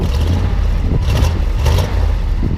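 A 1975 International Harvester engine revs steadily at close range, a continuous low rumble that rises and swells in a couple of throttle blips without any talk.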